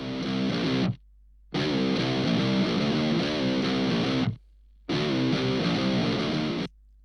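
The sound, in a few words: distorted electric guitar through Brainworx Rocker amp plugin, English 4x12 cab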